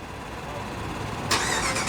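A 2021 Ram 1500 Laramie pickup truck starts by remote, a steady idle-like rumble suddenly rising into a louder, brighter engine roar near the end, heard close with no talking.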